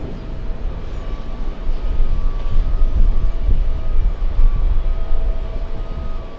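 JetBlue flight 2289, an airliner arriving from Amsterdam on final approach to land, produces a loud, steady low rumble of jet engines that swells slightly and then holds as a continuous roar, with no talking.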